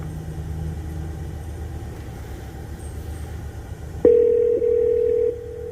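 A telephone call being placed on a live radio show: a steady tone and low rumble, then a loud, clear ringback-style tone sounding near and alone for over a second before stopping.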